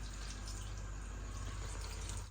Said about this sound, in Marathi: याच्यात आता पाणी टाकते